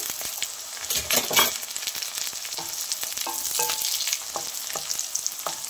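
Green chillies sizzle in hot oil in a pan while a bottle gourd curry is cooked, with a steady crackling fry and several sharp scraping stirs of a spatula close by.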